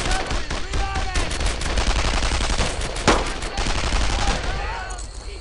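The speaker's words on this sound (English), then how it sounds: "Move in and keep up the fire!" Sustained automatic and rifle gunfire crackles through a World War II squad firefight in Brothers in Arms: Earned in Blood, dense overlapping bursts with one sharp loud shot near the middle and occasional shouted voices beneath.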